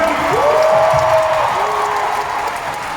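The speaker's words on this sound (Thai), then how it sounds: "ขอเสียงปรบมือครับ" Audience at a Thai concert applauding and cheering in a steady wash of clapping, with a faint tonal sound drifting over the crowd.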